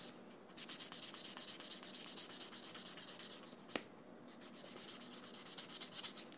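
Steady rhythmic rubbing and rasping of the soft back side of a nail buffer finishing a guitarist's fingernail, soft and close, with one brief tap partway through.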